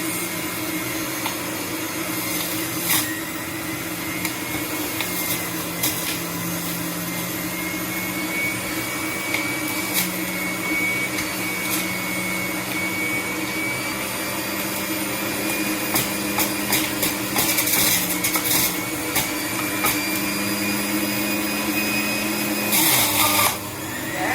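Sage juicer runs continuously, grinding fresh fruit with a loud, steady motor whine and intermittent crunching bursts as pieces are pushed through.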